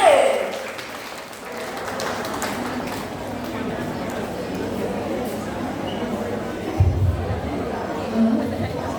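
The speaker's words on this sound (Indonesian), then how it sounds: "Beri tepuk tangan yang meriah untuk kelas 7B." A school audience at SMP N 5 Yogyakarta applauds a class 7B performance of the Roro Jonggrang legend, with dense clapping and crowd chatter filling the room at moderate volume and voices audible over it.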